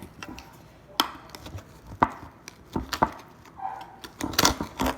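A knife cuts through a no-bake chocolate chip cheesecake and its crust, giving several sharp taps and scrapes against the pan at about one-second intervals, close and fairly quiet.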